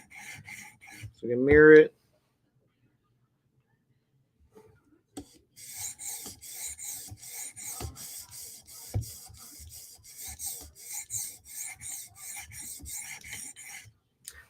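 Knife edge drawn across a 400 grit stone on a TSProf Kadet sharpening system while reducing the burr, steady rhythmic raspy strokes close up, with a brief spoken remark near the start.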